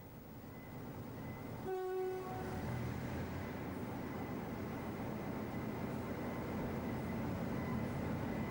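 Locomotive at the Bath Road depot, a loud horn blast near the start followed by a continuous low diesel rumble as it moves, no speech.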